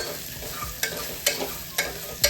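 Garam masala, coriander powder and salt being mixed in a hot pan for matar pulao, a low sizzle broken by four sharp scrapes of a spoon at regular intervals, close and brief.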